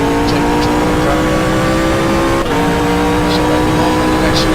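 Race car engine droning steadily at high revs in the GTR24h sim racing game, a GT car from the 2013 car pack, with a brief dip around a gear shift midway and faint tire noise; loud and continuous, no talking.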